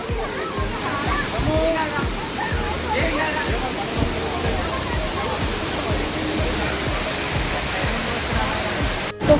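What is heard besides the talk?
waterfall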